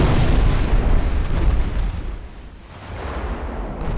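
Torpedo hits on a battleship in Ultimate Admiral: Dreadnoughts, deep rumbling explosions that roll and fade, then swell again, heavy and loud with no talk.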